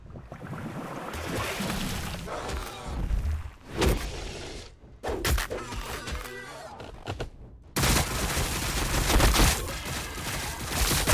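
A Tyranid Pyrovore unit fires in the strategy game Warhammer Battlesector, producing dense, sustained rushing blasts and crackling bursts that swell and cut out abruptly, loud and continuous amid layered battle noise.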